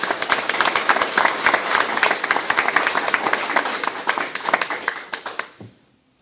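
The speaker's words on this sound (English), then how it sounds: "give them a big round of applause" Applause from an audience at an annual membership meeting, a dense steady clapping of many hands in a room that thins into a few scattered claps and fades out near the end.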